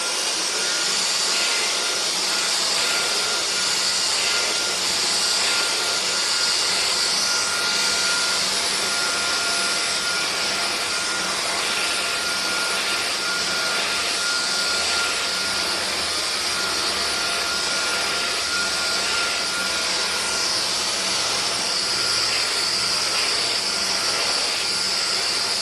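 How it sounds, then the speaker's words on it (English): An upright vacuum cleaner runs continuously while drawing sand out of a test carpet, a loud, steady high-pitched whine with a faint rumbling undertone, close and unbroken throughout. "let's go ahead and just vacuum a little bit"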